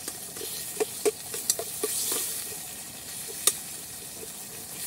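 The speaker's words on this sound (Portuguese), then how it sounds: "Dá uma dourada aqui nessa cebola" Onion browning in a pan for a dried fish moqueca with coconut milk, a soft steady sizzle with a few light stirring clicks and scrapes, close and moderately quiet.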